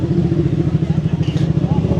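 A motorcycle engine idles and rumbles steadily up close at a bike night meet, a low pulsing throb running through the whole stretch, with crowd chatter mixed underneath.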